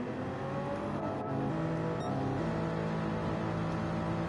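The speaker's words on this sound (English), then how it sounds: "I did hear the V8 biturbo engine" Race car engine in Gran Turismo 7, a V8 biturbo droning loud and steady with shifting pitch as it holds high revs, filling the whole stretch without pause.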